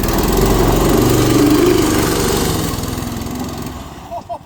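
Homemade snow ski kart engine running loudly up close, a steady rough mid-pitched drone that fades slightly toward the end.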